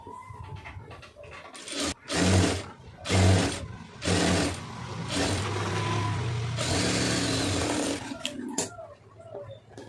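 A sewing machine runs in several short bursts, then one longer steady stretch, while stitching a quarter-inch folded hem on a garment neckline, close and fairly loud with brief pauses between runs.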